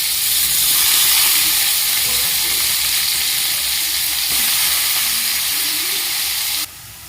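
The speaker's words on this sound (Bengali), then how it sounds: "আলু আর গাজর ভেজে নিচ্ছি।" Potatoes and carrots fry in hot oil for a spicy chicken pasta, giving a loud, steady sizzle and hiss that holds throughout, dropping slightly in level near the end.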